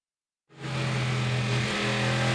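Race cars in an American Le Mans Series race at Lime Rock Park, 2012, burst in after a moment of silence and hold a loud, sustained engine drone as they pass near.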